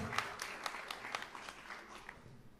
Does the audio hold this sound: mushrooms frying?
no